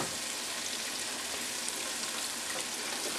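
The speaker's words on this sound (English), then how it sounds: "red peppers in there, which won't take very long for them to saute" Red peppers sauté in a pan for a cheesy broccoli soup, a steady, even sizzle with a fine crackle that holds close and unbroken the whole time, with no talking.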